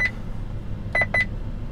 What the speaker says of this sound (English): that beeping you hear is the built-in radar detector made by Passport